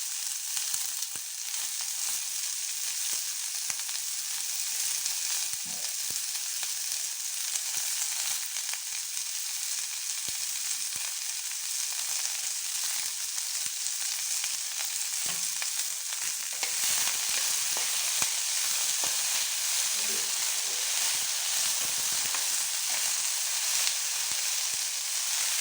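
Bottle gourd peels frying in a pan, a dense, loud, continuous sizzle that holds steady throughout with faint crackles and occasional stirring scrapes, no voices.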